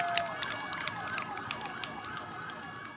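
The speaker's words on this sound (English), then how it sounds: "the sirens which tell you of the solemnity of how solemn the occasion is" Sirens wailing at a presidential swearing-in ceremony, rising and falling under a dense, noisy outdoor crowd, held at a moderate distance throughout.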